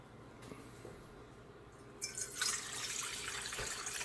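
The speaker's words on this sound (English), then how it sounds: "Start by putting the water in the bowl." Water poured into a mixing bowl while making a lemon cake at home, starting as a faint trickle and swelling into a steady splashing flow for the last couple of seconds.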